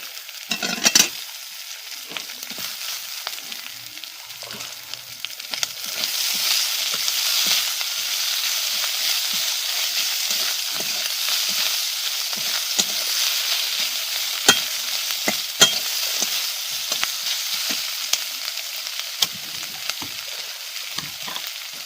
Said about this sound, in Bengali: ভালো করে নাড়াচাড়া করে নিচ্ছি। এইবারে একটা বড় সাইজের পেঁয়াজ কুচি দিয়ে দিচ্ছি।